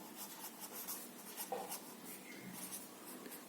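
Pen or chalk writing out numbers during a sixth-grade maths lesson: quiet, continuous scratchy strokes with short pauses between them, close and faint, with no talking.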